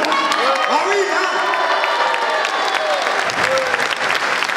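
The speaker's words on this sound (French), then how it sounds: "Et un tonnerre d'applaudissements." Loud, sustained applause from a large crowd at a Christmas live nativity in Provins, dense steady clapping with a few vocal sounds rising over it.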